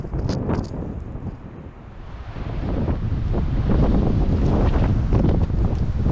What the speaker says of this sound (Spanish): era para mostrar un poco el viento también